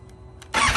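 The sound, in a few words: motorcycle engine starting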